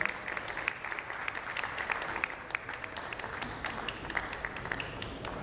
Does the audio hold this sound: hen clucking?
no